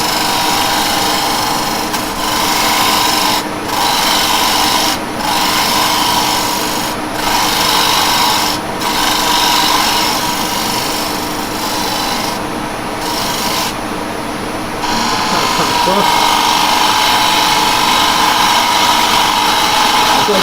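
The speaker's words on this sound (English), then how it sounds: "we'll use the spindle gouge. I'm going to bring this in." A spindle gouge cuts wood spinning on a lathe with the speed turned down, giving a steady close-up rasping hiss that is briefly interrupted several times as the tool lifts off.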